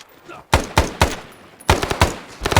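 Bursts of rapid automatic gunfire from the ArmA video game during a training exercise, two loud clusters of close shots separated by a short pause with faint background noise.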